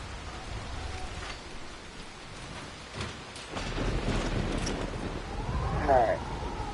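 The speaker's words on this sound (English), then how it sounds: "It's freaking raining as soon as I get in there." Steady rain falls in the video game Dying Light: The Beast, a constant hiss throughout that grows heavier and denser in the second half, with a few faint sharper ticks over the wash.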